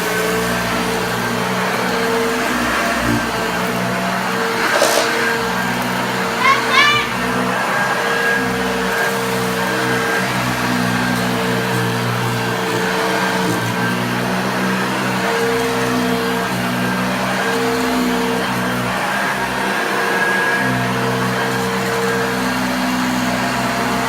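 A restored 1976 Hoover Junior U1016 upright vacuum cleaner runs over carpet with a loud, steady motor drone and brush roll hum, plus a few brief clatters and slight shifts in pitch as it is pushed back and forth.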